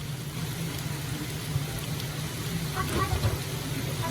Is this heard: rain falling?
yes